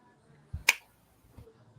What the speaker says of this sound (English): I heard a hand clap.